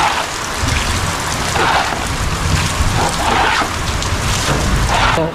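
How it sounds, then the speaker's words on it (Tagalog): Heavy rain pours down in a dense, loud, continuous hiss, with no voices. "Uy, napakalakas ng ulan talaga"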